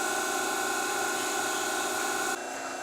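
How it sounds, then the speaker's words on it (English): An Everett chop saw's hydraulic unit runs with a steady, loud droning hum and a constant whine, dropping slightly in level near the end. "with the hydraulic unit still running, but the feed stopped"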